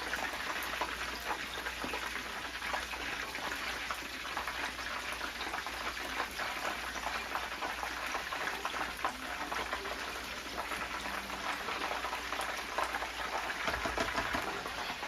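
Battered fish pieces frying in hot oil, giving a steady, dense crackle and bubbling hiss that runs evenly throughout without talk.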